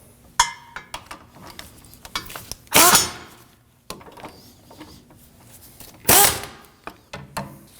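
Wrench tightening the hub bolts on a 2016-2022 Honda Pilot during a rear wheel bearing and hub replacement, making close metallic clicks and clinks with two longer ratcheting bursts, with no one talking.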